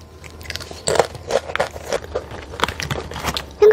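Cheese-flavoured corn nacho chips are bitten and crunched right at the mouth, a run of crisp, close snapping crackles and chewing with no talking.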